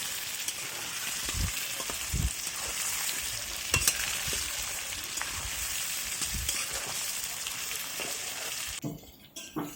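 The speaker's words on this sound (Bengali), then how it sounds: "তো মা এখানে আলু ভাজছে।" Potatoes frying in oil in a village kitchen, a continuous close sizzle broken by occasional soft stirring knocks, the crackle dropping away near the end, with no talking.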